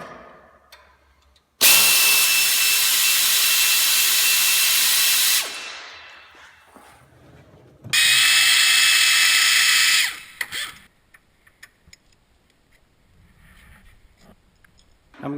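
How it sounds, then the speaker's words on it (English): A 3/8 air ratchet loosens 10 mm hub bolts on a Ford Explorer rear wheel bearing job, running in two loud, close bursts, the first about four seconds long and the second shorter, with quiet gaps around them. "I'm going to try using my 3/8 air ratchet to get them off."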